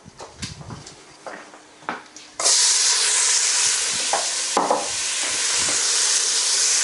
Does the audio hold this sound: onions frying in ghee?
yes